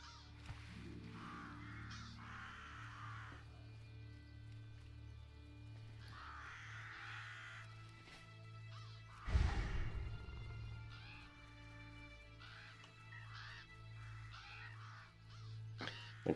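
Crows caw in scattered groups in WoW Classic, played as a hardcore melee-only Hunter, their rough calls recurring irregularly over a steady background music drone, broken once by a sudden loud thud midway.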